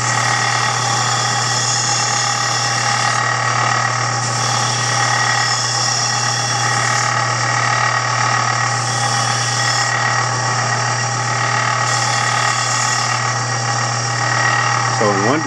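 A shop vacuum runs with a steady, loud whine and constant roar throughout, used for dust collection while sanding plywood veneer.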